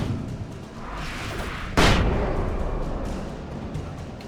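A flashbang going off in the video game Alan Wake Remastered: one sharp, loud burst that decays into a rumbling tail over low background game ambience.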